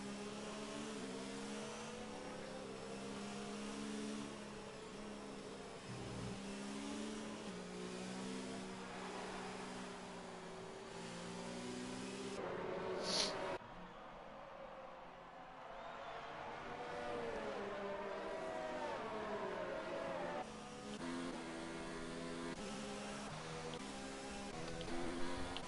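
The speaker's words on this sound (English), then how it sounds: "Safety car going quite slow at this point." F1 race cars and a safety car run through the Azerbaijan circuit in a racing video game, a steady mid-pitched engine drone with shifting tones, a brief sharp burst midway and a fresh surge near the end.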